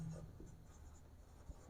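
Pen writing on paper during a branch accounts lesson, quiet and close, with faint short scratching strokes.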